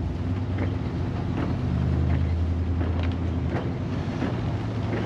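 A 1965 Buick Skylark pulling away, a steady low engine rumble with faint road and wind noise throughout, close and continuous without talk.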